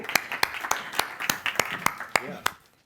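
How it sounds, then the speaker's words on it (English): Scattered applause at a blockchain conference panel on stage: a handful of sharp, evenly spaced claps, moderately close, fading out after a few seconds. "Let's give them all a big round of applause."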